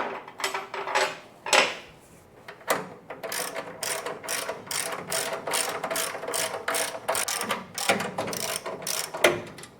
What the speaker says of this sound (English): as soon as I start wrenching these down, all that should just line up and suck back up into place